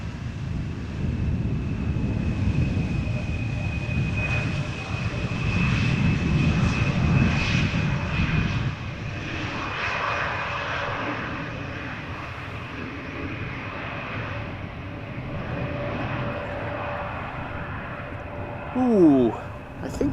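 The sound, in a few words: Embraer jet airliner arriving at Amsterdam Schiphol Airport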